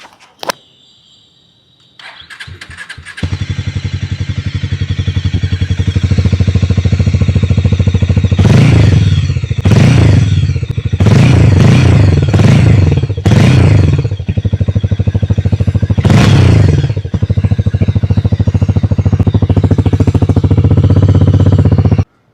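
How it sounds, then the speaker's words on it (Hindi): A 2025 Harley-Davidson X440 motorcycle starts up and settles into a loud, steady bassy exhaust idle close by, punctuated by several sharp throttle blips and revs in quick succession. "चलिए मैं इस बाइक को ऑन करके दिखाता हूँ और सुनते हैं इसका एग्जॉस्ट"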